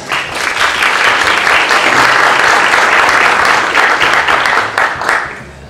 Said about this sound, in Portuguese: Palmas para elas.